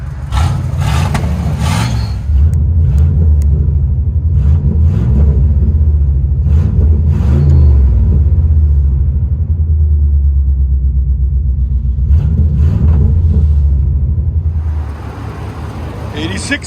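A 1984 Oldsmobile Cutlass with a 307 V8 and straight-piped dual exhaust rumbles loudly up close, its deep idle swelling into several throaty revs before settling back into a steady burble.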